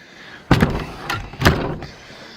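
A house door swings shut on a snowy winter day, giving two solid thuds about a second apart, close by and fairly loud, with no talking.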